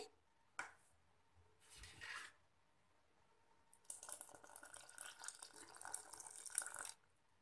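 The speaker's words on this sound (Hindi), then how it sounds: "घोल हमारा थोड़ा गाढ़ा है, तो हम इसमें थोड़ा पानी और डाल लेंगे।" Water poured from a glass into thick corn papad batter cooking over a medium flame, a brief splash early on, then a louder sustained pouring and sloshing stretch of about three seconds, close and alone.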